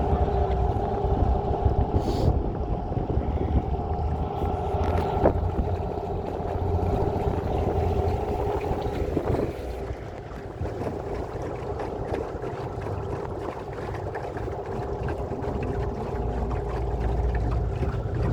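A small boat engine drones steadily throughout, its uneven, sputtering chug from a cylinder dropping out, with water and wind noise around it.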